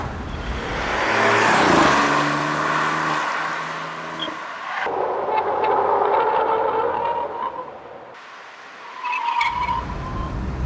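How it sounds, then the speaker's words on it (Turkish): A Mini Cooper Cabrio drives through corners with steady engine and road noise, rising and falling as the car is steered, with a tire-squeal-like tone, heard from inside or close by. "Bakın bu şekilde virajları dönerken bile hiç zorlanmadan çok kolay bir şekilde otomobili yönlendirip çizgisinde tutabiliyorsunuz."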